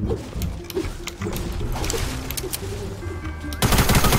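Rapid gunfire from a shooter video game, with bursts of shots crackling over a busy game soundscape, close and fairly loud, then a louder sharp burst near the end.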